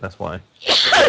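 A person sneezes loudly up close, a sharp burst after a couple of quick spoken words.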